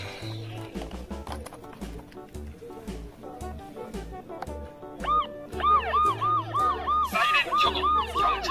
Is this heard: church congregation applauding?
no